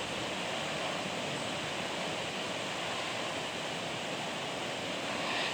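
Chicken added to a pan of frying masala sizzles with a loud, steady hiss that runs unbroken throughout, with no voices.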